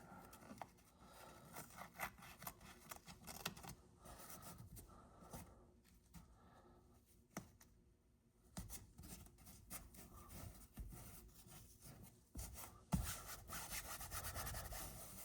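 Torn cloth car seat fabric being cut, a scratchy, rasping sawing sound in repeated strokes with brief pauses, close and fairly loud.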